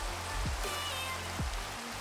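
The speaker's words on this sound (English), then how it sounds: "it's not really a thunderstorm. It's just rain." Steady rain in a video game, an even wash of pattering with two brief swooshing tones rising over it, moderately loud and with no talk.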